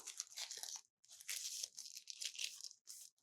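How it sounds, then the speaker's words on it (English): New kitchen knives being unwrapped from their packaging: close, crisp plastic tearing and crinkling in several bursts, with brief pauses between them. "So let's start unwrapping them."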